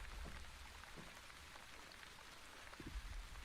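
Steady rain falls in The Wandering Village video game, a continuous hiss of dense drops with a few soft low thumps, even and unbroken throughout.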